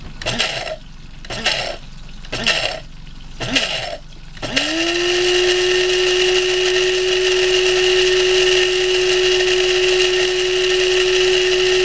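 Dried celery pulsed in a blender into powder: four short bursts with brief pauses, then one loud continuous whir that holds steady close by.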